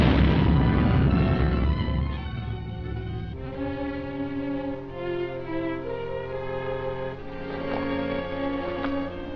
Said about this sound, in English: It was a concussion from the explosion.